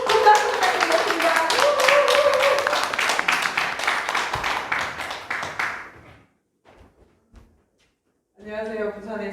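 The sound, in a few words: audience applause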